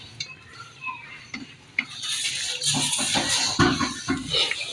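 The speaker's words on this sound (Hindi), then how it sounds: "पहले तो अच्छी तरह इसको मिक्स करूँगी" A spoon stirring and scraping spices, salt and vegetables such as carrot, onion and potato in a bowl, with close, irregular clinks and scrapes getting busier as the mixing speeds up.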